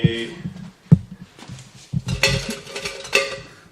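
A ceramic pan and bamboo spatula knock and clatter in a kitchen while dosa is being cooked, with a few sharp clinks and scrapes close by and a voice talking in between.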